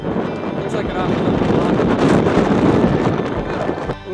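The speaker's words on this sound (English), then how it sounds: "Incredibly windy stuff." Strong gusting wind buffeting the microphone at a camp in Auyuittuq National Park on Baffin Island, a loud roaring rumble that swells and holds for several seconds, with a voice faintly underneath.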